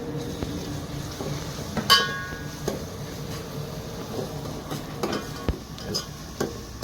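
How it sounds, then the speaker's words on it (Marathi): Tomatoes fry in a tempering of browned onion in a pan on a wood-fired stove, a low sizzle broken by scattered clinks and scrapes of stirring, with faint voices in the background. "आता टोमॅटो टाकूया. टोमॅटो चाललाय"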